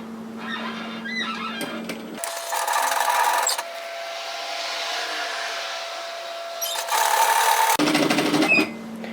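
A sewing machine top stitches along the edge of a reversible hooded infinity scarf in two loud close bursts, with a quieter pause between them and a brief run at the start.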